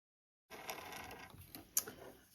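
A sewing machine stitches a fabric scrunchie with elastic inside. After a moment of silence there is a brief, quiet mechanical whirr and clatter that lasts about two seconds.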